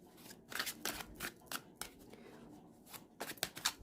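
Tarot cards being shuffled and drawn in a short burst of riffles and flicks, close and crisp, with brief pauses between the shuffling runs and no speech.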